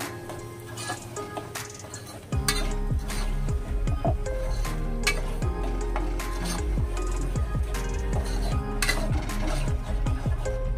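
Ground masala paste for Kolhapuri misal roasting in oil in a pan, stirred with repeated scraping and squishing strokes over a low steady sizzle, close and moderately loud.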